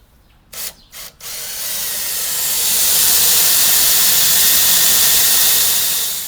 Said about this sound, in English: We're going to drill it with a 1/4 inch drill bit first